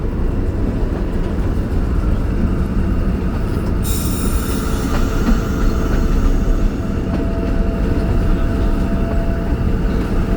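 The Thal Express passenger train rumbles through a tunnel at night in a loud, continuous roar of wheels on rail, with a sudden rise in hiss partway through and faint metallic squeals, close and enveloping.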